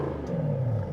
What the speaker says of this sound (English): Now this is fitted with the sports exhaust, so can we rev it in comfort mode first,